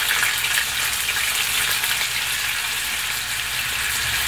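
Chicken thighs fry skin-side down over high heat in a pan full of their own rendered fat. The sizzle is dense and constant, close and loud, with no talking over it.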